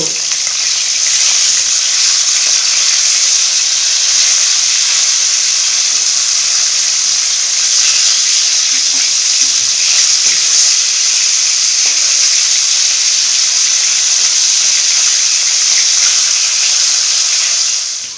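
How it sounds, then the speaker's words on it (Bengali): Fish fry in hot oil in a kadai-style wok, giving a steady bright sizzling hiss that stays even and close for the whole stretch, with faint occasional clinks. "মাছগুলো একটু উল্টে দিব"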